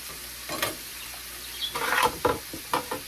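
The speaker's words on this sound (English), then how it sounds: "I want to brown my rice and my veggies. So I have quite a bit of oil in here." Rice and vegetables browning in quite a bit of oil in a pan, sizzling softly while being stirred, with irregular scraping and clacking strokes of a utensil.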